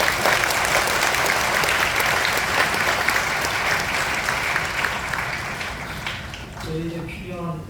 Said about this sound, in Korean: 감사의 박수 한번